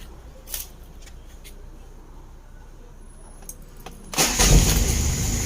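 A used Toyota Mighty-X 2L diesel pickup cranks and fires on the first try, after a few quiet clicks and shuffles, then settles into a loud close rumble.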